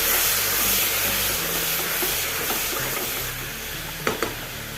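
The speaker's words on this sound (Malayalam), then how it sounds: "ഒന്ന് ഇളക്കി കൊടുക്കാം." Green peas stirred in a hot frying pan for a paneer vegetable pulao, a steady close sizzle and scrape running throughout, with a couple of sharp clinks near the end and no talking.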